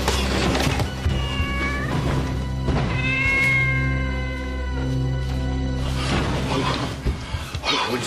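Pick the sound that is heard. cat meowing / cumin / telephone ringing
cat meowing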